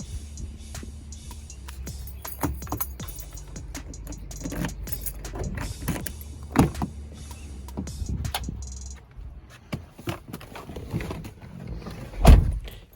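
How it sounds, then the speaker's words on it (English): A keyless entry remote has its metal key blade released, making small clicks and faint key jangling close by, with a sharper metallic snap near the end and no speech. "To get the key out, you flip this little switch here on the back of the remote to release the key blade"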